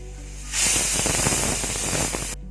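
A pressure cooker cooking pulao lets off a single loud steam release, a sustained hissing whoosh lasting under two seconds that starts and stops abruptly, with no talk.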